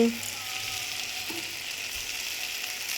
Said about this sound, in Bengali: আর টমেটো কাঁচা লঙ্কা ভাজা ভাজা হয়ে আসছে এবার আমি দেব আদা রসুনগুলো